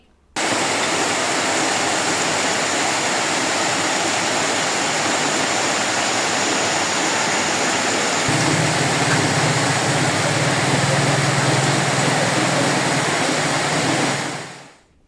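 Floodwater from heavy rain rushes steadily through Venkitangu Centre, a loud, unbroken roar that holds for the whole stretch before cutting off.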